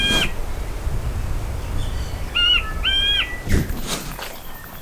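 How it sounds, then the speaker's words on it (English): Quail calling loudly on a small New Zealand island, a few harsh, ringing call bursts rising over steady outdoor ambience, close and clear with short gaps between calls. "So this is a quail. Look at him. He's really cute, making a right racket."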